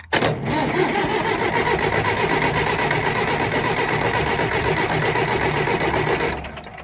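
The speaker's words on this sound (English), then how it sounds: "Sounds like my battery's dying on the tractor." A tractor engine with a weak, dying battery cranks over and over in a fast, labored rhythm, loud and close, then cuts off abruptly near the end.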